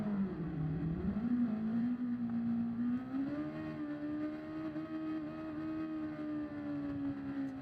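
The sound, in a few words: car engine reversing slowly in Gran Turismo 7 (video game)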